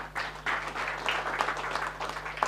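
Audience at a startup pitch event gives steady applause, many hands clapping in a dense continuous patter with a faint background hum.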